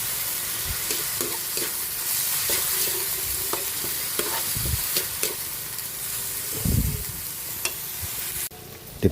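Pork cubes and sotanghon noodles stir-fried in a hot pan, a steady close sizzle with repeated scraping and stirring clatter across the whole stretch, no talk.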